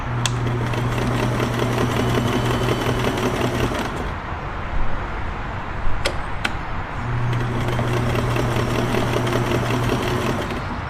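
A Kenmore 1410 sewing machine stitching steadily up close with a fast, even mechanical whir, stopping for a few seconds with a couple of clicks before starting up again.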